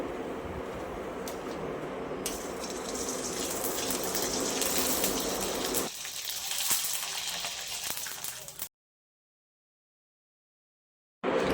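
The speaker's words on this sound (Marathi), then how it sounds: "आपले पापड इथे फ्राय होत आहे" Sabudana and potato papad frying in hot oil, a steady bubbling crackle for several seconds that thins out, then cuts to silence.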